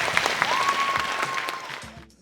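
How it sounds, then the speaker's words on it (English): Audience applause at the Miss International Asia Pageant 2015 as contestants leave the stage, steady clapping from a sizeable crowd with a brief tone running through it, tapering at the end. "Big round of applause"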